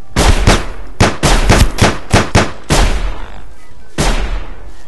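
A pistol firing in the Sir, You Are Being Hunted game, about nine sharp, loud shots in quick irregular clusters, with a short pause before the last one.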